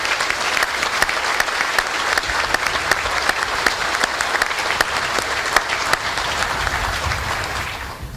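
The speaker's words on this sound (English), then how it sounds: "Please, a round of applause for Ansley." Steady, close applause from the audience at a SOCPAC change of command ceremony, a dense even clapping that holds for several seconds before easing at the end.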